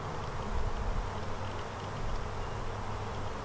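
Honeybees buzz in a dense, steady drone from an open hive as the frames are inspected, a close and continuous hum with no voices.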